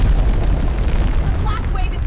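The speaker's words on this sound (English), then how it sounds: "He detonated the soul bomb prematurely," A soul bomb detonates in the Heroes 3 video game, producing a loud, sustained booming roar of blast rumble that fills the whole moment without a break.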